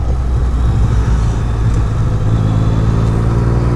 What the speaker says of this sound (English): I love being on a motorcycle.